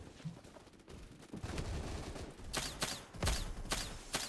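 Gyrojet carbine fire in the Phantom Forces shooter game: a handful of sharp, separate shots spaced apart, rising out of a dense, rumbling battle backdrop.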